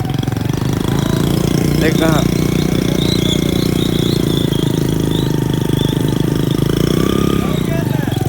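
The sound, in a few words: modified Hero Splendor motorcycle engine running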